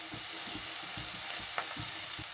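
Chopped onions frying in oil in a pan while mango mutton curry is being made, a steady close sizzle with soft periodic stirring scrapes, no voices.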